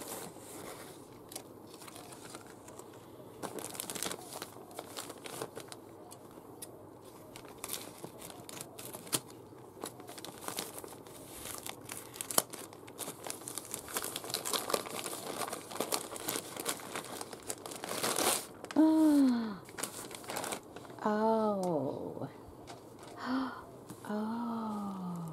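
Paper gift wrapping and fabric-like paper crinkle and rustle as a Christmas present is unwrapped, with repeated close crumpling bursts, a few sharp tearing and squeaky sounds near the end, and little talk.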